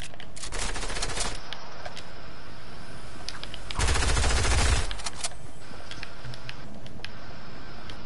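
Submachine gun fire in Fortnite, rapid mechanical bursts of rattling shots in a few separate strings, one longer heavier burst midway, fairly close with no voices over it.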